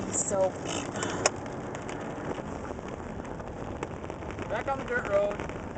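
Steady heavy rain drums on a car during a lightning storm chase along a dirt road, a dense continuous patter with a few sharper drop hits and faint muffled voices underneath.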